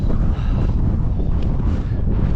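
Strong wind buffets the microphone on a cold, exposed stretch of the Cumbria Way hiking trail, a loud, continuous low rumble with no let-up.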